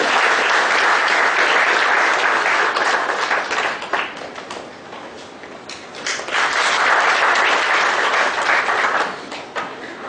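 An audience at a one-day GST seminar applauds in a sustained, dense round of clapping that dips briefly midway and then swells again, loud and continuous throughout.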